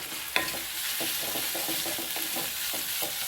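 Tomatoes and onions frying in a pan for a potato masala, a steady close sizzle broken by regular stirring scrapes and a sharper clack near the start, with no talking.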